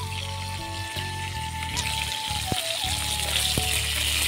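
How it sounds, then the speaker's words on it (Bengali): Fish fries lightly in a pan with a soft continuous sizzle, joined by a few faint clinks and kitchen handling noises. "টকে মাছ তো হালকা করেই ভাজবো, বেশি কড়া ভাজবো না।"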